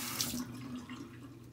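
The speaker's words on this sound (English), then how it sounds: "the sound of the running water" Water running from a sink tap during a wet shave with a Valet Autostrop razor, a steady close splashing stream.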